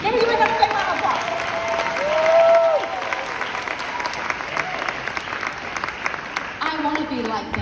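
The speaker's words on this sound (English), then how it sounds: "Can you give me a big round of applause?" Audience applause at a training event, dense clapping under a speaker's voice and pitched tonal sounds, moderately loud and fairly close.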